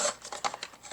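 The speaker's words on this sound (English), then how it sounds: "And then I'm going to cut corner to corner." A Fiskars paper cutter with a wire guide slices paper corner to corner, making a quick run of close, crisp rasping scrapes and soft clicks in rapid bursts over about a second.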